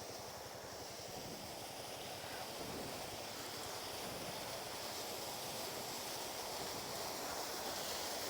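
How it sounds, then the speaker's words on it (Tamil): A heavy waterfall on the route from Malakkapara to Athirapally pours down in a dense, unbroken roar that stays loud and even throughout, with no voices. "சீரியஸாக வேற மாதிரி தண்ணி சாமையாக விழுகுதுங்க"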